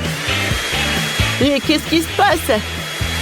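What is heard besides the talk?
hair dryer blowing on corn kernels to make popcorn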